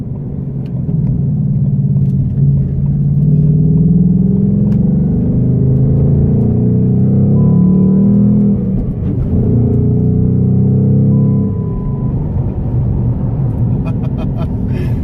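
A 2019 Ford Mustang Bullitt V8 cruises at low revs with a steady, deep engine rumble and road drone, while people talk over it throughout.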